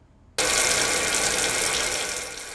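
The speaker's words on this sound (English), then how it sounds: "noticed murky water coming out of their pipes" Murky, discolored water bursts from a household faucet in Forsyth during a drought, a sudden loud rushing stream that starts abruptly after a quiet moment and keeps pouring steadily.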